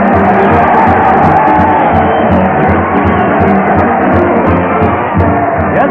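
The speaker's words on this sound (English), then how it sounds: "listen to that crowd cheering Fred Allen as he heads his weekly parade to the old Town Hall" A crowd roars and cheers for a 1935 radio comedy program's weekly parade to the town hall, a thick, continuous wash of voices on a muffled, narrow old broadcast recording.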